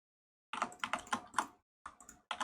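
Computer keyboard being typed on while numbers are entered for a Sudoku solve, in several quick bursts of close keystrokes separated by short pauses, with no voice.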